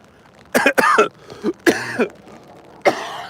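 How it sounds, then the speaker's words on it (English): Several harsh coughs come close together near the start, a short pause, then another cough, all loud and close with no talking. "Don't worry, it's not a serious cough."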